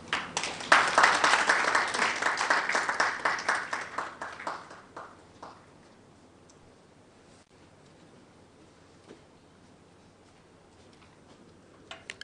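A formal audience at a school-competition launch claps loudly for several seconds, then the applause thins and dies away into a quiet room with a few scattered claps.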